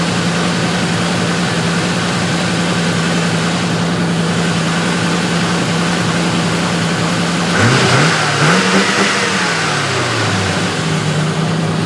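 A Range Rover engine with its misfire newly fixed runs at a high, steady idle, loud and close, then blips briefly in a quick rev and settles back to the even drone.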